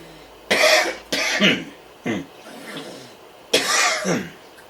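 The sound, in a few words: coughing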